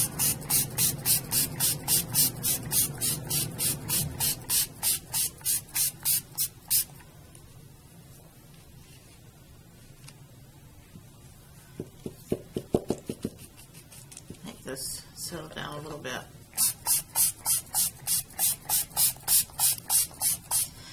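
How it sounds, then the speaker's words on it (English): Rapid bursts of water spray from a bottle pump onto coffee filters in quick rhythmic runs at the start and end, with quieter handling noises and a brief voice in between. "And kids love to spray the water too."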